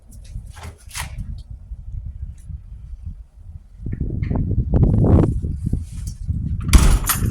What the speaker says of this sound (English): close the door firmly